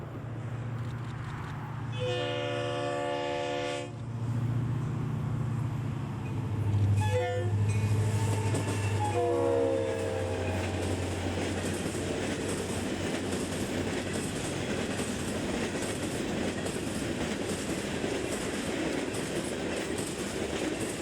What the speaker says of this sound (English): here's a work train carrying ballast heading through Bonaventure last week